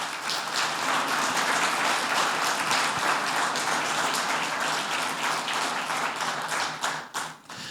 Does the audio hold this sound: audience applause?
yes